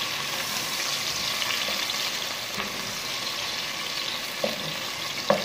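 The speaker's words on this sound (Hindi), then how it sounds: "तेल गरम हो गए, हम इसमें अभी प्याज डालेंगे, अच्छे से हम प्याज डाल लेंगे।" Onions fry in hot oil with a steady, dense sizzle and crackle, close and even, a few soft stirring knocks near the end, with no talking.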